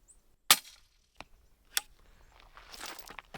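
Subsonic 300 Blackout round from a Rossi Brawler rifle striking dirt: one sharp, fairly quiet crack followed by a few softer thuds and rustling in a quiet outdoor setting.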